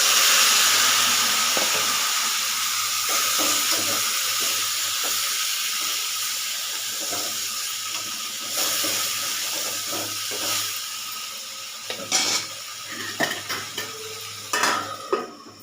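Boiled broad beans and softened onion fry in a pan, giving a steady close sizzle and hiss with repeated scraping and clinking from a stirring spoon against the metal, growing livelier toward the end.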